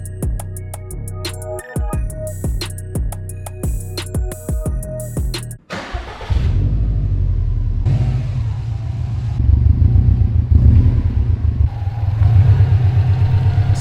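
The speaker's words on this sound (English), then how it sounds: "It's a high RPM misfire, so I don't think it's like an actual motor issue." Subaru engine with a high-RPM misfire: a rapid, uneven popping idle stutter for several seconds, then a loud sustained revving roar that climbs and holds, close and dominant with no talk.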